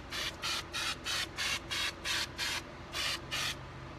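A hand pump sprayer applying flocking to a wreath, about ten short evenly spaced bursts of hissing spray, close and steady in rhythm.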